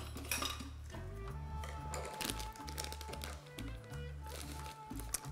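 Small berkoukes pasta pellets tumble into a pot of boiling water with a steady clattering, rattling patter against the metal, close and fairly loud throughout.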